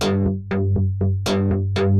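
A Blue-III synthesizer patch played with distortion, a run of seven or so struck notes with bright buzzy attacks and quick decays over a sustained low drone, loud and close.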